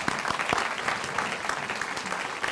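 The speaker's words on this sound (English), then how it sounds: "That's worth an applause, actually." Audience applause at a philanthropy tribute event honoring Sidney Kimmel in Baltimore, a steady dense round of clapping from a crowd filling the whole moment at even loudness.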